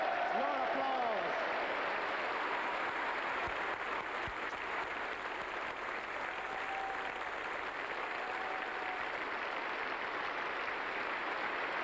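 Sustained applause from a large audience fills the whole stretch, a dense, even wash of clapping with a few brief voices near the start.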